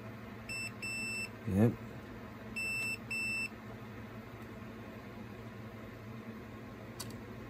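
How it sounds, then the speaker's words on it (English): A Nintendo 3DS gives short electronic beeps when its button is pressed: a quick double beep, a soft thump, then another double beep, all fairly faint over steady background hum, with a small click near the end. "somehow push that button, it should make a beep"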